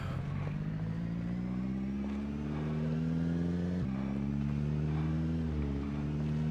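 Car engine in the survival video game Project Zomboid, a smooth, steady motor drone rising gradually in pitch as the car drives, with a brief dip and gear-like shift partway through.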